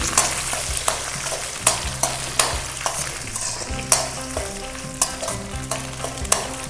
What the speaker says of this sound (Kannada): ಕಡಲೆ ಬೀಜ ಎಲ್ಲ ಚೆನ್ನಾಗಿ ಫ್ರೈ ಆಗಲಿ.